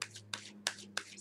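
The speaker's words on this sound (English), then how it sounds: "So I'm pre-shuffling the cards." Tarot cards being shuffled by hand, four short crisp riffling bursts spaced evenly over a steady low electrical hum, close and fairly quiet.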